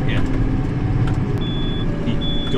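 Tractor engine chugging as a steady low rumble while driving down a road, close and continuous, with faint beeps and people talking over it.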